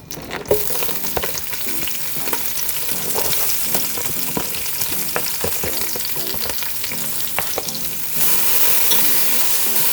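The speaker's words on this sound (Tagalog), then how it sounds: "Igisa muna natin ang bawang sibuyas at luya." Steady sizzling of garlic, onion and ginger sautéing in a hot pot, with scattered stirring clicks and scrapes throughout; the sizzle swells louder near the end.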